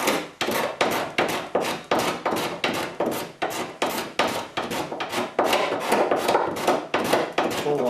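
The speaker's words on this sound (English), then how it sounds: "I'm going to take my cabinet scraper. I need to probably sharpen an edge on it." A cabinet scraper's edge is sharpened with fast, even back-and-forth rasping strokes, about three per second, close and steady with no voices.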